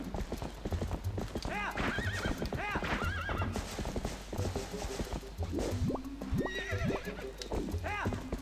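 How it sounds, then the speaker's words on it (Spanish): A horse in The Legend of Zelda: Twilight Princess video game, with rhythmic clip-clopping hooves throughout and several whinnying neighs, mixed with splashy liquid game effects and someone talking over it. "El caballo va muy a su rollo."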